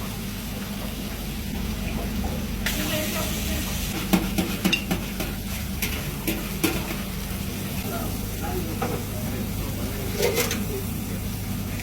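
Grill King beef patties, seasoned with Worcestershire sauce and biltong spice, fry in a pan with a steady close sizzle, broken by clattering stirs and scrapes through the middle.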